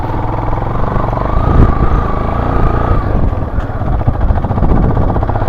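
A motorbike labours uphill on a rough off-road track in the cold hills between Letang and Samala Dada. The engine drone is loud, close and continuous throughout.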